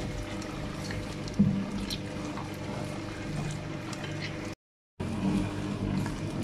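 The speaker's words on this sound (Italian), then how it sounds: "inseriamo un altro filo d'acqua." A thin trickle of water is poured into biga dough for contemporary-style pizza, giving a steady, soft splashing hiss that runs continuously, breaks off for a moment, then resumes.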